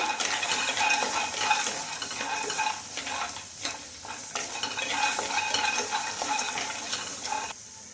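Peanuts, green chillies, tomato, ginger and garlic fry in a pan with a continuous close sizzle and frequent scraping stirs, dropping to a quieter hiss at the very end.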